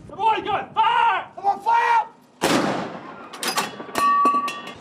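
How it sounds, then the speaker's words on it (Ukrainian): A single loud, sharp boom of a ceremonial royal artillery gun salute in London's Hyde Park follows a stretch of talking, with a second burst of cracking and ringing afterward. "з королівської гармати в лондонському гайд-парку на честь свята дали урочистий випал"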